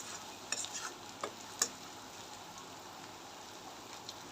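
Ginger, garlic and onion frying in a pan give a soft, steady sizzle, with a few brief stirring clicks and scrapes near the start. No voices.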